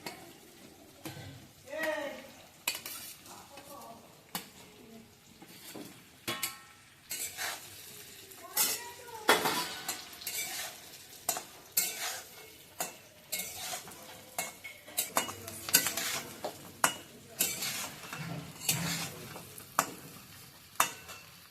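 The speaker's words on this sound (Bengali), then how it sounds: "ক্যাপসিকাম আর পেঁয়াজগুলো হালকা ভাজা হয়ে গেছে আমাদের এবার আমরা চিকেনগুলোকে ঢেলে দেবো" Chicken stir-fried with capsicum and onion in a pan, with chilli added, sizzles steadily under repeated scraping and clinking of a spatula against the pan. The stirring comes in an irregular rhythm, close and moderately loud, with occasional quiet talking.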